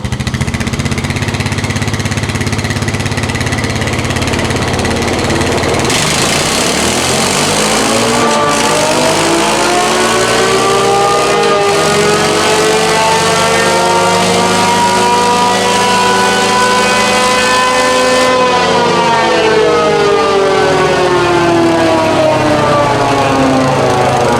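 A loud CFMOTO CFORCE 500 ATV engine revs steadily upward on a dyno for several seconds, its pitch climbing and holding high before easing off, a continuous mechanical whine with no talking.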